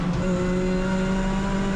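A race car engine drones loud and steady on a lap of Oulton Park approaching Cascades, a sustained close in-car roar with strong constant tones and no talk.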